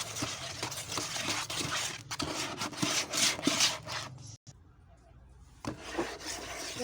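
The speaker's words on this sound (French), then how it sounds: "c'est le bruit du sel. Parce que la pâte ne peut pas faire fondre le sel." Salt grating in thick liquid soap paste as it is stirred, a close gritty rasping and rubbing that drops away briefly near the middle before resuming.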